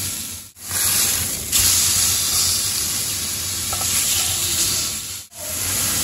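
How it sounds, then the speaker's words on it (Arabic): A salad ingredient fries in a pan with a loud, continuous sizzle up close, broken by two brief dips where the hiss drops away before it resumes. "كنخليوه يتحمر لنا على جوج وجا"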